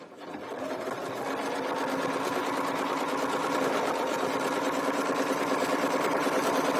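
A domestic sewing machine quilts a line along a straight-edge ruler, making a steady, close mechanical hum with fast rhythmic needle ticking that builds briefly at the start and then holds evenly.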